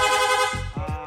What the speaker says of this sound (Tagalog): Long press lang po natin yung horn switch kung saan na po siya magsusunod-sunod.